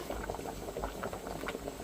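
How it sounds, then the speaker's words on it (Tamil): Ground fish curry bubbles vigorously on a new stove: a close, continuous patter of boiling liquid with no voices. "இதை வச்சு மீன் நல்லா கொதி கொதின்னு கொதிக்குது"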